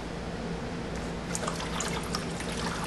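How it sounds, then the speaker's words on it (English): Coolant fluid spilling and splashing from a car water pump pulled free of a 2.7T/2.8L engine, a steady close trickling pour with scattered drips and splatters, no voices. "I pulled on it and it popped free. A lot of fluid everywhere"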